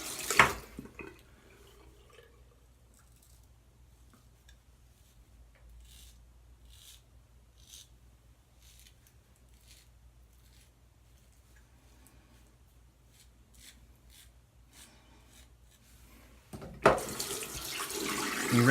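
A bathroom water tap runs steadily and quietly while a razor is rinsed, with faint rubbing and a louder splash of water near the end.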